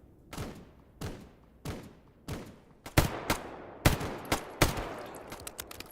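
Gunshots in the shooter game GAMMA: a series of sharp, single, evenly spaced cracks with short decays, followed by quicker bursts of shots, moderately loud with no talk.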